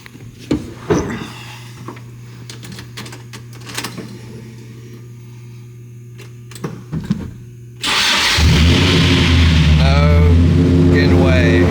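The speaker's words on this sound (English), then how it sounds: "I can't wait anymore. Engine start," A Nissan 350Z that has sat abandoned for a year starts for the first time, with a few clicks and a steady electrical hum before the engine cranks, catches and settles into a loud, rough idle close by.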